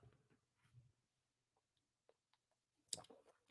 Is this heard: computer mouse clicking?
yes